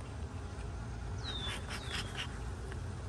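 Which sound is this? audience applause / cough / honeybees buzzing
honeybees buzzing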